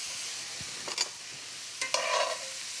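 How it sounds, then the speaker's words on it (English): Shrimp cook in a hot pan with a soft, even sizzling hiss, broken by a couple of light utensil clinks near the middle and end. "I'm just gonna cook my shrimp until it turns opaque"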